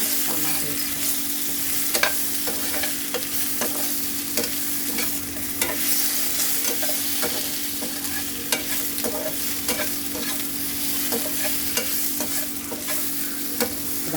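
Food frying in a pan, stirred with repeated scraping strokes over a steady sizzle that runs throughout, close and fairly loud, with no voices.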